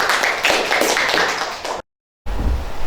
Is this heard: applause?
yes